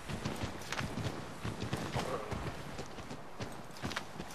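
Horse hooves clip-clopping at a steady walking rhythm in the video game Assassin's Creed 3, close and continuous over a dense background of game ambience.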